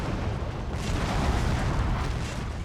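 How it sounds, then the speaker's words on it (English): Artillery shells bursting across a battlefield in the strategy game Fall of the Samurai, a continuous heavy rumble of overlapping explosions with a broad, roaring boom that swells slightly midway and holds loud throughout. "more artillery shells come flying in"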